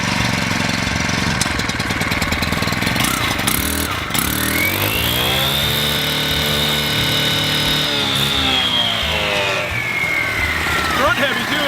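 A Dirt Monkey gas-powered concrete saw with a Shocker diamond blade revs up from a rough idle into a loud, sustained high-pitched whine, holds it, then drops back down, close by with voices talking over it.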